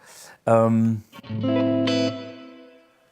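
An electric guitar through a Bad Cat boutique amplifier with reverb plays two sustained, distorted chords, each ringing out with a smooth reverb tail before fading.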